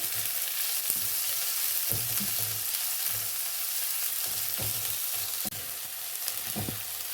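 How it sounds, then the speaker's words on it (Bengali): Onions sizzle steadily in hot oil, a continuous crackling hiss with occasional soft stirring knocks, close and moderately loud. "পেঁয়াজ এখন ভাজা ভাজা হচ্ছে"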